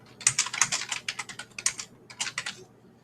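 Rapid keystrokes on a computer keyboard as a slideshow title is typed, coming in two bursts of uneven clicking with a short pause between, close and clear with no voices.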